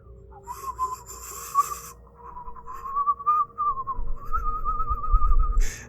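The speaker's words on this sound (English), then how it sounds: "It's almost someone whistling a pleasant tune." During a Call of Cthulhu tabletop game session, an eerie, thin whistling drifts through a wavering tune-like line, sustained notes sliding up and down with a short break, a low rumble rising near the end.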